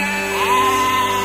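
A sheep bleats in one drawn-out, wavering call, fairly loud and close, over a steady background hum, with no voices.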